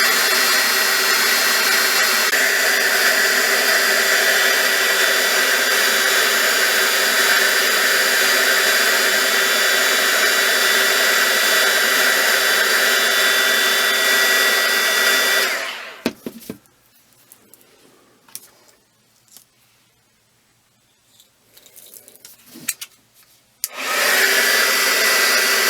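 Heat gun blowing a loud, steady roar for about fifteen seconds while warming up for paper bead making, then cutting off to near quiet with faint handling noises before it starts roaring again.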